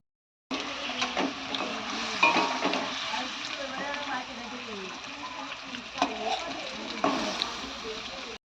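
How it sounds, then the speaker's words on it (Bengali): Pieces of catla fish fry in hot oil in a pan for a spicy fish curry, a continuous close sizzle with occasional stirring scrapes, while someone talks over it. "এই যে মাছগুলো এখন দিয়ে দিলাম, কাতলা মাছের ঝাল"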